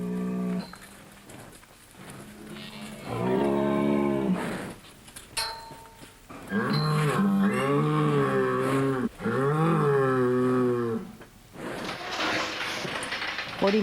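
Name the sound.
prize bulls mooing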